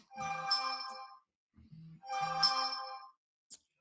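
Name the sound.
phone ringtone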